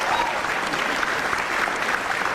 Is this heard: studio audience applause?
yes